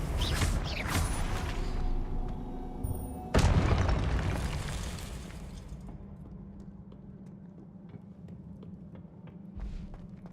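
A Confringo fire spell explodes in the Hogwarts Legacy video game with a loud booming blast at the start, then a second sharp blast, followed by a fading rumble and quieter game sounds.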